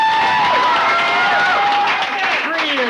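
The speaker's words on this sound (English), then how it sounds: "I think we all owe John a round of applause." Applause and cheering from a crowd at a 1991 WCHS Today send-off for John Wall, loud and continuous throughout, with whistles and shouted cheers rising over the dense clapping.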